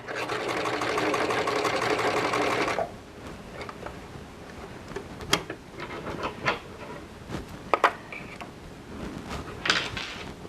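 A sewing machine stitches in a separating zipper, running loud and steady for almost three seconds before stopping. Scattered clicks and fabric handling follow.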